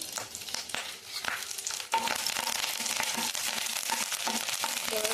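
Curry leaves crackle and sizzle in hot groundnut oil for a mushroom curry, a dense, steady frying hiss that jumps louder midway as they hit the pan, with no talking.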